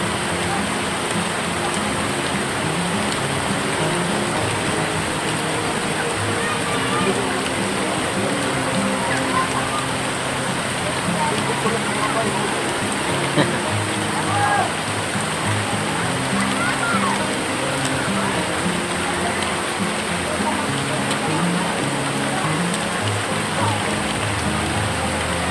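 Heavy rain falls steadily in a dense, even wash of water noise that runs unbroken throughout, loud and close, with faint voices now and then under it.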